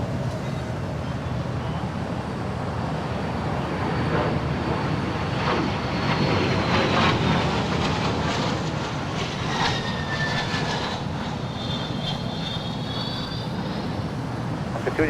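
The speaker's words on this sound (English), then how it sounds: "Citation longitude lifting off 25 left," A Cessna Citation Longitude business jet takes off from runway 25 left at Los Angeles International Airport, its engines roaring loudly and steadily for the whole span with a rising whine, heard from nearby airport grounds.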